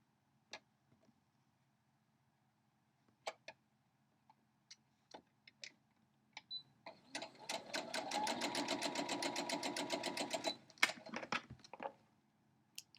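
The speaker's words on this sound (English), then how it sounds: "So I'm chain piecing." A sewing machine stitches a quilt block in chain piecing, opening with scattered clicks and taps, then a close, rapid rhythmic burst of stitching for a few seconds before stopping into a few more clicks.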